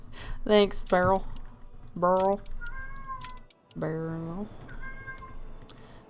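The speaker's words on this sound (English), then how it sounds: "Sorry if you can hear my cat in the background." A cat meows several times, drawn-out and fairly close, in between short bits of a person talking.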